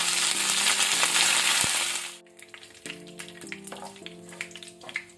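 Curry leaves, urad dal and mustard seeds hit hot oil with a loud, bright sizzle for about two seconds, then settle into a quieter crackle and spatter in the pan.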